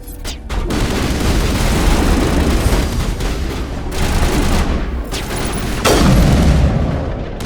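Gunfire in the Mass Effect: Legendary Edition video game, a dense, loud, continuous barrage of shots and booms that stays intense throughout with a few sharper bursts.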